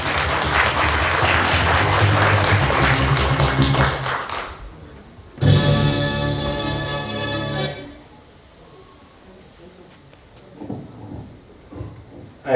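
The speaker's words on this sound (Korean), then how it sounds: "여러분 큰 박수 부탁드리겠습니다" Banquet guests at a 60th-birthday celebration in a Daegu hotel give loud, dense applause that stops abruptly, swells again briefly, then fades into quieter room sounds with scattered taps.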